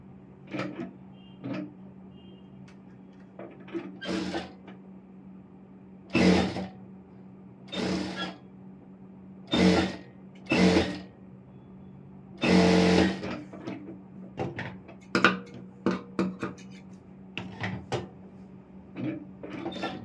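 Short bursts of a sewing machine stitching an Aari work blouse, starting and stopping irregularly with brief mechanical clicks and handling noises in between, close and moderately loud.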